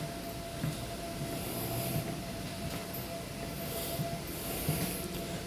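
Secondhand Japanese-built train at Hua Lamphong station in Bangkok, a moderate steady rumble of rolling carriages with a thin sustained tone and brief hissing bursts, no talking.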